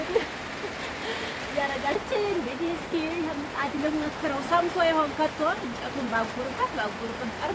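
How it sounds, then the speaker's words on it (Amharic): Continuous rain falls steadily through a cold rainy-season day while injera is baked on a griddle, a soft unbroken hiss under a person talking throughout. "ያ አላህ እየሰማችሁት ነው። ዝናቡ እስካሁን አላቋረጠም።"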